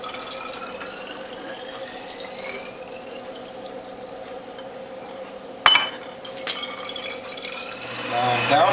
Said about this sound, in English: I'm going to fill these bottles from the back side so the camera gets a good shot